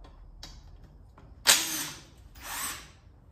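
A power tool whirs in two short bursts removing the top bolts from the rear main seal flange of an Audi VW 2.0 TFSI engine during teardown, close and alone after faint clicks.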